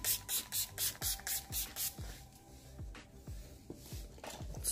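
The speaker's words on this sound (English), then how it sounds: "I'm gonna go ahead and use my setting spray and set everything." A fine mist spray pumps out in rapid bursts, about a dozen quick hissing spritzes, close and crisp with short pauses between them.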